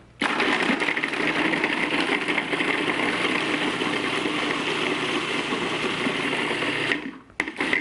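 A food processor purees fruit with a teaspoon of lemon juice and vanilla stevia, its motor whirring loud and steady for about seven seconds before cutting off, followed by a brief restart.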